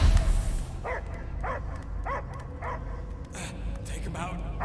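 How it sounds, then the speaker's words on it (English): A dog barks in a Guardians of the Galaxy video game scene, with about six evenly spaced, yelping barks at mid-distance that sit over a low rumbling game soundscape. "I hear only barking."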